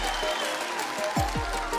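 Studio audience at the 2010 Russian national selection for Eurovision breaks into applause, a moderately quiet wash of clapping mixed with broadcast tones and a brief voice.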